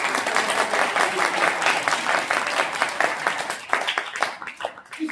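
An audience at a Hindi kavi sammelan poetry gathering breaks into loud, sustained applause, dense clapping that stays full for a few seconds and then thins into scattered, uneven claps toward the end.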